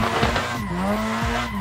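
Nissan 200SX drifting in Assetto Corsa, a loud droning engine under sustained squealing tires, close and continuous with the pitch dipping and rising as the car slides.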